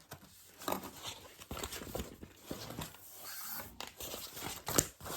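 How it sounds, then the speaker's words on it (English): Scissors trimming the excess end of a zipper and lining fabric while sewing a laptop bag, a few soft irregular snips and rustles of fabric, close and fairly quiet, with no talking. "I'm going to trim the end of the zipper where I had my staple."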